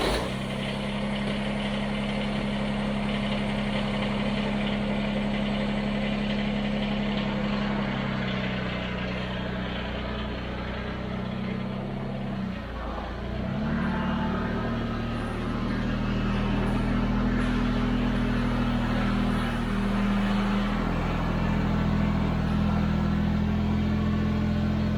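A tractor used for snowblowing idles and rumbles close by as it pulls back into a garage, a steady low engine drone that dips briefly midway and then rises again.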